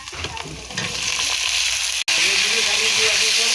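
Potatoes going into well-fried spice masala in a hot pan, a loud continuous sizzle and hiss with a brief break midway, then a bright steady frying roar.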